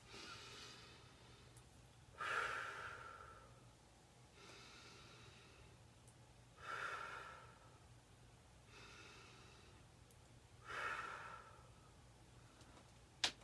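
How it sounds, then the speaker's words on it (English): Three slow, deep breaths are taken during a calming self-regulation exercise. Each is a soft inhale followed by a louder, drawn-out exhale, close to the microphone, and they are evenly spaced over quiet room hum. "So we're going to take our 3 deep breaths."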